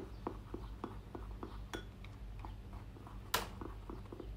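A spoon stirs a thickening starch mixture in a bowl, making a steady rhythm of soft clinks and scrapes against the bowl, with one sharper knock near the end.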